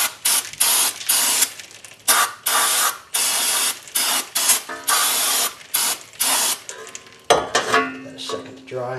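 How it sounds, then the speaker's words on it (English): Brake cleaner hisses from an aerosol can onto the front brake parts of a 2011 Chrysler 200 in loud, close bursts of about a second each, with short gaps and a clatter of handling at the end. "Just have a little bit of brake clean here."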